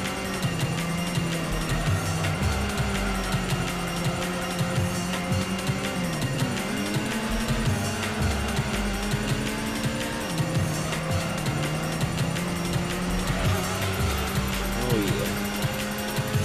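Engine drone from a car racing in Gran Turismo on the original PlayStation, a steady loud tone with shifting pitch as it revs and changes gear, with brief tire squeals through corners.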